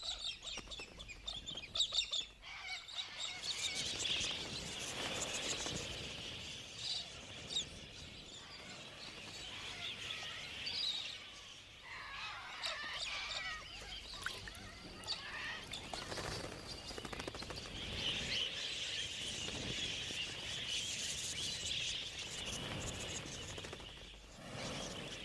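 Wild galahs, Australian parrots, calling in open country: repeated harsh, high screeches and chattering squawks from several birds, some near and some farther off, continuing irregularly throughout.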